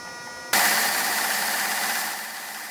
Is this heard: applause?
no